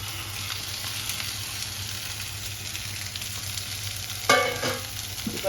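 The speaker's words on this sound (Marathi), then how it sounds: "आता ही आपण फरसबी चिरून घेतली ना ती फरसबी घालते." Chopped French beans tossed into a hot pan, a steady quiet sizzle of frying under light stirring, with a sharper clatter of the beans landing and being turned near the end.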